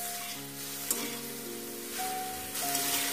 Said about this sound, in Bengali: আদা রসুন বাটা, হলুদ ও লবণ, এই সব কিছু দিয়ে একটু ভালোভাবে কষতে থাকতে হবে